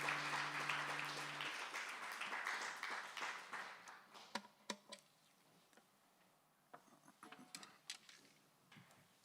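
Audience applause at a refugee festival launch concert in Bristol Beacon, loud dense clapping for the first seconds that thins into scattered individual claps, with a brief held musical tone fading at the start.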